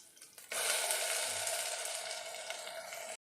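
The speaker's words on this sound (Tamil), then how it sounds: "இப்போ வெங்காயம் நல்லா வதங்கிடுச்சு." Chopped onions sizzle steadily in hot oil in a pan while being sautéed for a Tamil tomato kulambu, a loud continuous frying hiss that starts abruptly and holds for a few seconds.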